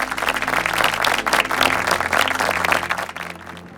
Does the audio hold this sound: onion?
no